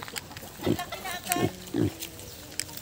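A pig on a farm in Kapatag gives about three short, low grunts spaced across a couple of seconds, fairly faint and close, mixed with human vocal sounds.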